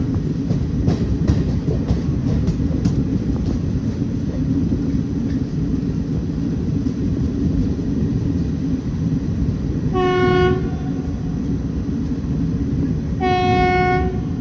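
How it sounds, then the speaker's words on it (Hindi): A WG9 electric locomotive hauling a goods train rumbles steadily past in India, with dense low rolling noise throughout and two loud horn blasts near the end, each about a second long. "शायद गुड्स ट्रेन है, हाँ गुड्स ही है, WG9।"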